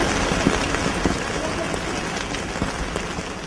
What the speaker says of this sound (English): On a rainy morning in Srinagar